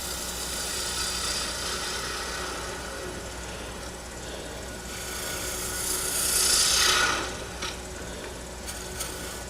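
Steady rasping scrape of a tool hollowing out wood on a lathe, a continuous broadband shaving noise that swells louder for a moment before easing back.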